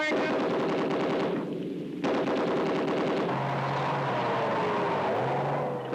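A tank's coaxial machine gun fires rapid, loud bursts of speculative fire during a troop tactics exercise, with a brief pause midway and a low engine rumble running underneath throughout.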